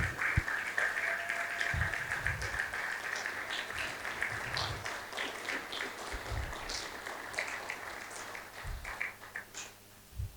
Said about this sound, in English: with a round of applause, I'd like us to please invite the tech evangelist, Amani Kanu.